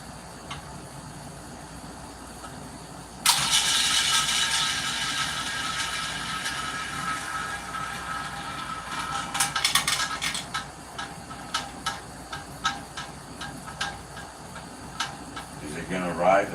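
A roulette ball whirs loudly around the rail of a spinning wheel, then drops and clatters in a series of irregular clicks and bounces as it settles into a pocket. A voice is heard now and then.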